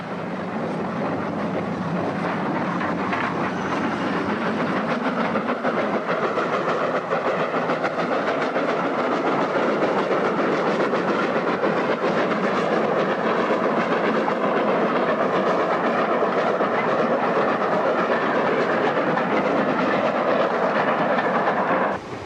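A steam locomotive hauling a train up a steep bank labours along at a steady pace, a constant loud chugging roar with rhythmic rail clatter that never lets up.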